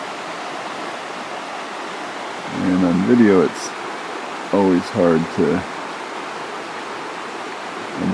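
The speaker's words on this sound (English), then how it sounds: "So here we're right along the river right next to the mountain." A river running right beside a mountain trail near Doubletop Mountain in Katahdin country, a steady broadband rush throughout, with someone talking over it in two short bursts.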